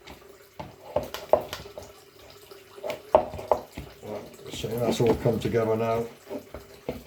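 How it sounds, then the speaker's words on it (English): Water runs from a kitchen tap while soup and broth are being made at home in North East England, a splashing flow rising and falling among clinks, with someone talking over it. "Turn this water off."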